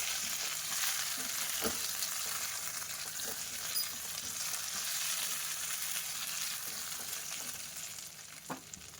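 Stuffed capsicum cooks on a slow flame with a gentle, continuous low sizzle, occasional soft knocks of a spoon mixing, fading slightly toward the end without any talking.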